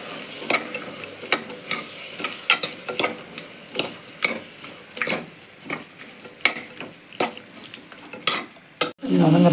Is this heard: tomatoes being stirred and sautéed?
yes